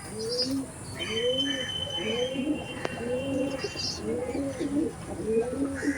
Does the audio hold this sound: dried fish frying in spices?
no